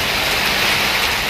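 Heavy monsoon rain pours onto waterlogged streets in Sindh, a loud, dense, unbroken hiss of falling water filling the short moment.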